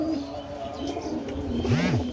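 Pigeons kept by a fancier in Ropar coo close by, one clear rising and falling call standing out over a steady low murmur of other birds.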